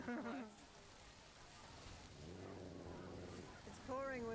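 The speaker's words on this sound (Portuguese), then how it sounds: "Está chovendo bastante." Heavy rain pours steadily in Bali ahead of a wedding, a constant hiss beneath low rumbling, with brief bursts of other sounds at the start and end.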